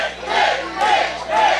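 A wrestling crowd at an independent pro wrestling show roars and shouts in rising surges, three loud swells of cheering and yelling close together in quick succession.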